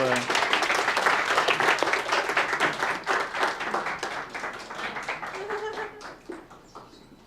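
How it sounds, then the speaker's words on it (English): Audience applause at a student innovation pitch competition, a room of clapping hands that holds steady and then tapers off near the end, with some voices mixed in. "Can I get a round of applause for"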